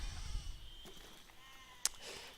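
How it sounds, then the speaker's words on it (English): Sheep in the physics building game Besiege bleat faintly over a quiet hissing background, with a brief sharp click partway through and no speech. "The sheep are getting slaughtered."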